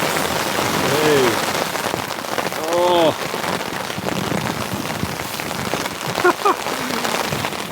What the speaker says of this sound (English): That rain's coming in pretty heavy.